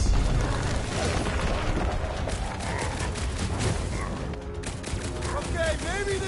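Fireworks burst in a PS4 action game, a dense run of loud booms and crackles overlapping one another, with game voices and effects mixed in.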